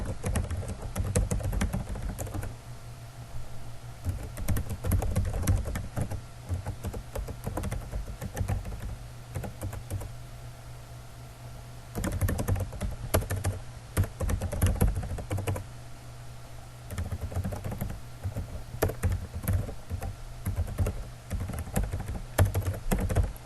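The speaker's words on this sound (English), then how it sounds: "So I'll just go ahead and type mine real quick." Rapid, steady typing on a computer keyboard, with clustered bursts of key clicks and brief pauses over about twenty seconds, close and clear with no talking.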